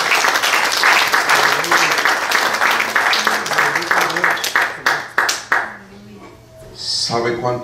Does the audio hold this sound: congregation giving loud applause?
yes